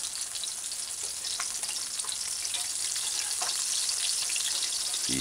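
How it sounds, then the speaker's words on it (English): Fish fillet deep frying in hot oil in a pan, without flour, giving a steady, dense sizzle with small crackling pops throughout and a brief clunk near the end. "I looked on it to see how it's frying, if it's cooking too fast"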